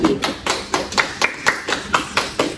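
Rhythmic group clapping in a classroom, about ten even claps in unison, close and fairly loud, acknowledging a student's correct answer.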